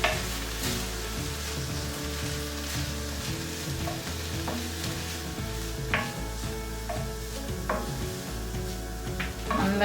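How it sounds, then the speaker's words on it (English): Pepper soup ingredients sizzle in a pan as they are stirred, a continuous frying hiss broken by scraping strokes of the spoon, close and moderately loud, with a low hum underneath. "Stir."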